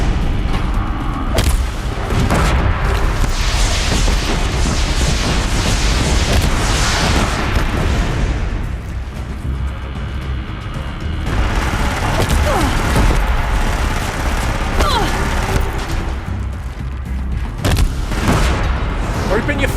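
Blast bombs explode one after another in Horizon Zero Dawn, loud booming blasts layered with combat noise and a voice talking over the action.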